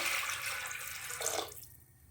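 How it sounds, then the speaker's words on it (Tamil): Water is poured into a pot of green moong dal with ghee, cinnamon, cloves and fennel. The splashy stream runs close for about a second and a half, then stops. "தண்ணி சேர்த்துக்கலாம்."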